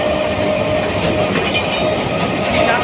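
The Haldia Fast local train rolls into a station with a steady loud rumble and a faint metallic whine running through it, close and continuous throughout.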